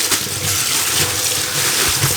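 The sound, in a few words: rinsing out a bag with water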